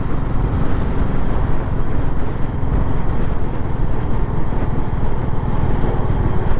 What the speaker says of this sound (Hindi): बाइक में सिर्फ एग्जॉस्ट नोट है ना, उसी की साउंड आती है